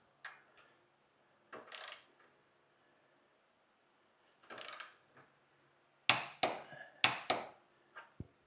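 A torque wrench clicking: faint ratcheting at first, then a series of sharp, close clicks in quick succession with small trailing ticks, no talking.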